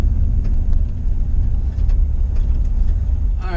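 Steady low engine and road rumble from a 1968 Ford F100 with a Coyote engine driving over a rough, bumpy gravel surface, with faint intermittent rattling ticks riding over the continuous drone inside the cab.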